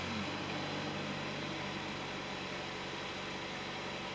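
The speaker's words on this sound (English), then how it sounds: "right now it seems to be idling good" A Ford Escape engine, which overheats and runs badly, idles steadily with a low, even rumble and slight vibration, no voices.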